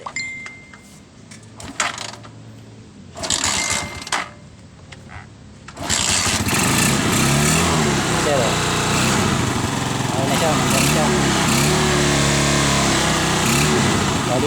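Motorcycle engine running during a CDI wiring test with the CDI powered from a charger output, a few short bursts of revving, then a steady loud high-pitched idle up close.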